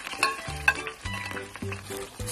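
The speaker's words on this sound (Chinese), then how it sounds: "先要葱姜蒜爆个香" Scallion, ginger and garlic are stir-fried in a wok, with a rhythmic scrape and clatter of the spatula repeating every half second over a low sizzle.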